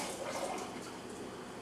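Water running steadily from a tap during a rinse, a continuous soft splashing rush at moderate distance that stays even throughout.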